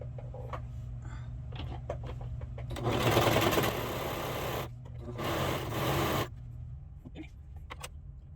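Sewing machine stitching a cardigan, running in two sustained bursts of steady mechanical whirring, loud and close, with quieter handling noise and a faint hum before and after.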